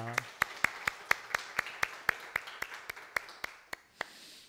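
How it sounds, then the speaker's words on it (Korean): A church congregation at Sunday worship claps in a steady, evenly spaced rhythm to welcome a visiting retired missionary pastor and his wife, crisp distinct claps that ring out close and thin slightly toward the end. "박수로 환영하겠습니다"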